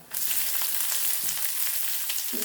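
Sliced onion, garlic and a couple of torn dried red chillies sautéing in a pan with curry leaves, a steady close sizzle that begins abruptly and holds evenly, with a brief stir near the end.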